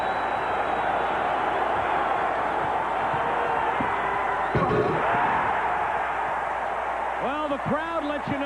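A packed arena crowd at the 1988 NBA All-Star Slam Dunk Contest in Chicago roars in a loud, sustained cheer after a dunk, with a few thuds and a commentator's voice over the din.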